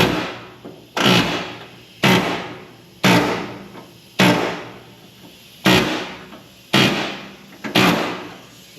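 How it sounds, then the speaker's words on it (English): An air hammer cuts away the left dog leg panel of a 1969 VW bus in eight short, sharp bursts, each a loud hammering rattle that decays quickly before a pause, in a close, even rhythm. "So now I'll take the air hammer and I'll go real slow."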